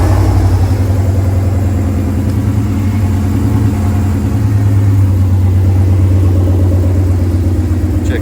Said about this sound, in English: Engine hooked up. It works.